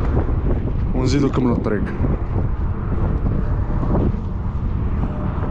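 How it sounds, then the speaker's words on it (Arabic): Wind buffets the microphone of cyclists on a desert road in southwestern Algeria, a loud, constant low rumble throughout, while someone talks over it. "راه كاين شويه ريح ماشي في صدرنا بالعكس راه في دارنا"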